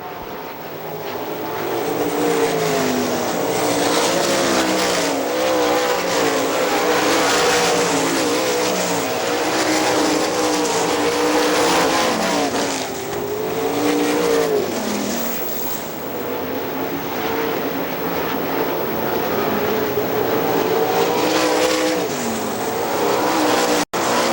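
Sprint race cars roar around the dirt oval at Hartford Speedway, a loud, continuous engine drone with rising and falling pitch sweeps as cars pass and the pack circles the track.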